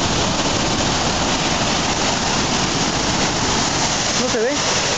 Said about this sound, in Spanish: Y aquí está la cascada.